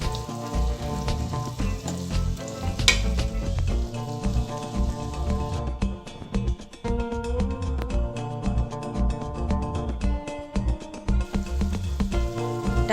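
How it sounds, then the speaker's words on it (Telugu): Bottle gourd pieces simmer in a tomato and dal paste in a pan, giving a steady close sizzle and bubbling crackle that runs continuously, with faint clinks and some soft background music. "సొరకాయ ముక్కలు ఈ పేస్ట్లో 5 నిమిషాలు ఉడకనివ్వాలి."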